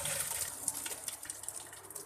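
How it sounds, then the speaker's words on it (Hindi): Water from boiled phulkiyan drains through a strainer in a kitchen, a steady close splashing pour that runs unbroken for about two seconds. "फुल्कियाँ बॉयल हो चुकी हैं और फिर हम इनका पानी ड्रेन कर लेंगे।"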